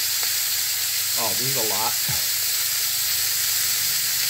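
Hamburger meat sizzles steadily in a pan, a bright continuous hiss that runs throughout while a person briefly speaks over it.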